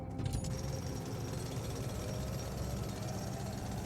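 A rock-breaking drill in the video game The Alters gives a loud, continuous mechanical rumbling and hammering drone that holds steady throughout.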